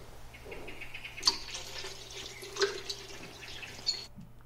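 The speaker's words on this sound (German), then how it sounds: "Wenn ich dann den Wassertank wieder auffülle," Water is poured into the tank of an espresso machine, a soft running trickle with a few drips, close and fairly quiet, stopping abruptly near the end.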